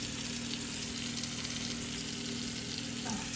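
Shrimp and garlic fry in butter mixed with bacon oil, giving a steady, even sizzle with a faint hum beneath, quiet and close with no talking.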